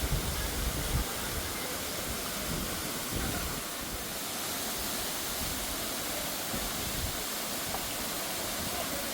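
Aruvikuzhy waterfall pours into a shallow pool, a steady, dense rushing roar that holds even and unbroken from start to finish with no voices.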